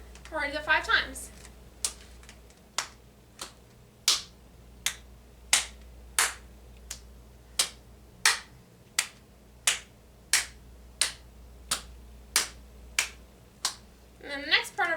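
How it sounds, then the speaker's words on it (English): Sharp handclaps land in a steady, evenly spaced rhythm during a full-body warm-up, about twenty crisp claps, close and loud, with a voice talking briefly at the start and end. "So you're going to begin with a clap in front. It's pretty easy. Clap above, clap behind."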